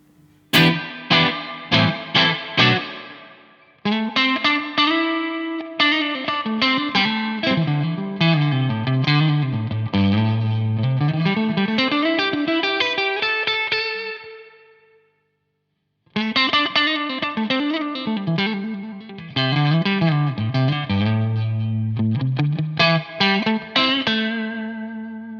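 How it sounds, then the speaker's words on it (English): Electric guitar through a Strymon BigSky reverb pedal on its spring setting, picked notes and chords playing a bluesy phrase with splashy sustained tails, a short pause, then the riff returning and ending on strummed hits. "Spring reverb."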